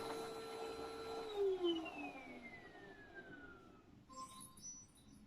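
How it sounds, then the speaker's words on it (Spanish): A household vacuum cleaner whines, its high motor tone sliding downward as it winds down, faint and alone, followed by brief scattered clicks. "Ese es el sonido que produce la aspiradora."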